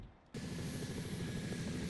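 A carpool helicopter arrives in The Sims 2, starting abruptly as a steady, loud rotor and engine drone that holds evenly to the end, with no talk.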